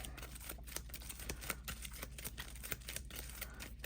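Playing cards from the Marvel Champions card game being shuffled, a steady run of quick soft riffling clicks over a low room hum, close by and with no talking.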